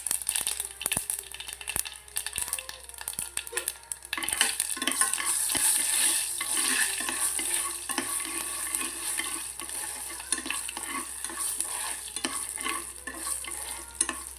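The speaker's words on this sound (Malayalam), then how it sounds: "വെളിച്ചെണ്ണ വെച്ചിട്ട് കടുക് ഇട്ട് കൊടുക്കുന്നുണ്ട്" Mustard seeds and dried red chillies frying in coconut oil for sambar, a close crackling sizzle with scattered pops and spoon-stirring scrapes, growing busier partway through and continuing steadily without talk.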